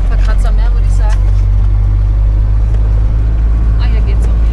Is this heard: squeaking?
yes